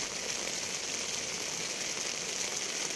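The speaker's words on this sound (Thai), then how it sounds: "มีฝนมาอีกแล้ว" Rain falls steadily on a tent at a campsite in the countryside, a dense even hiss of drops pattering on the fabric close by, with no voices.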